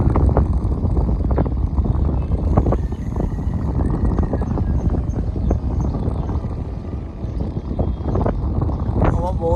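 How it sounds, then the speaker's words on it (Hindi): Strong, gusting wind buffets the microphone outdoors near kites flying aloft, a steady broadband roar throughout with scattered thumps and rattles and a faint voice underneath. "बहुत तेज़ हवा है।"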